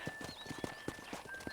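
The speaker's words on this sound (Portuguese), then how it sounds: "let's see if you can still ride a horse" Hooves clip-clop steadily under a horse ridden in the video game Red Dead Redemption, with faint game sounds and occasional soft tones around the rhythmic footfalls.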